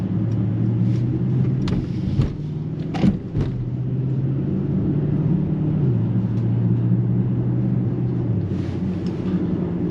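A 2024 Mercedes-AMG GLE 63 S 4MATIC+ SUV climbs a mountain road, its engine a steady low drone from inside the cabin. The pitch steps down in a few places, like gear changes, and a couple of faint clicks sound around the third second.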